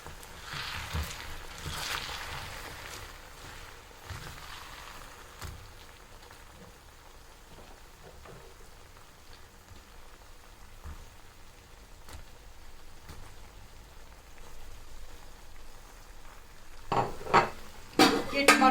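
Chicken karahi with black pepper, ginger and tomatoes being stirred in a pan, a steady soft sizzling hiss with scraping underneath, ending in a few louder clattering stirs near the close.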